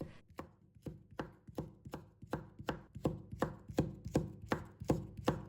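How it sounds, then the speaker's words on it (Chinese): Knife chopping a red pepper into thin strips on a cutting board, about a dozen crisp, evenly spaced cuts that speed up slightly, close and clear, with no talking. "再切成2段，改刀把它切成细丝"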